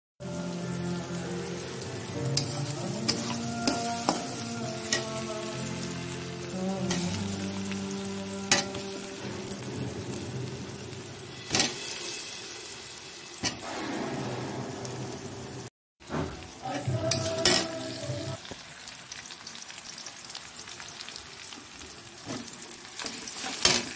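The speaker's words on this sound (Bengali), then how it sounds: "হালকা হয়ে ভাজা করে নিয়ে তারপরে মশলাটা দিয়ে দেবো এখানে।" Cumin and spices frying in a hot pan, a continuous crackling sizzle with occasional scraping stirs and louder bursts, close by and without talk.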